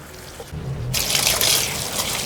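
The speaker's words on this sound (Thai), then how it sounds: "แล้วก็ทำการไล่น้ำออกมาครับตั้งแต่ด้านบนถึงด้านล่างเลยนะ ไล่อย่างนี้เลยนะครับกรอกน้ำแสบไปในลำไส้" Running water is poured through pork intestines as they are cleaned, a quiet trickle that suddenly opens into a fuller, hissing gush of flowing water up close.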